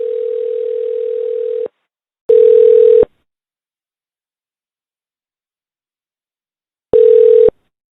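A steady telephone dial tone hums for about a second and a half, then breaks into two shorter bursts of the same tone separated by silence, clean and close with no voices.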